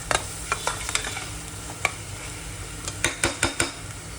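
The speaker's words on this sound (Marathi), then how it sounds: "दोन मिनटं चांगला केला परतून द्या व्यवस्थित" Masala for green mutton stir-fried in a pan, a steady sizzle under repeated close scraping strokes of a spoon, with a quick run of louder scrapes near the end.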